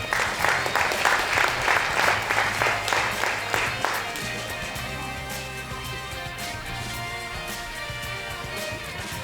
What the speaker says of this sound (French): On les applaudit.